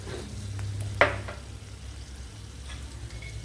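Cumin and fenugreek seeds sizzle in hot oil in a frying pan while a tamarind okra curry is being made. A steady close crackle runs throughout, with one sharp clink near the start.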